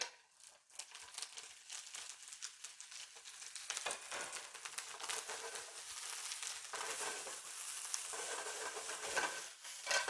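Seafood fries and gets stirred in a pan after browning golden on both sides, a steady close sizzle with crackling, scraping stir strokes running throughout.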